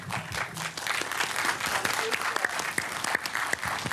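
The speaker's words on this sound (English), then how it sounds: "Please give a hearty round of applause, another round of applause for our judges and our advocates." An audience at a mock court argument claps for the judges and advocates, a moderately loud, sustained round of many hands heard on its own.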